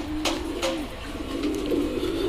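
Pigeons cooing on a covered home terrace in rainy weather, several soft, rolling coos close by over a steady background hum.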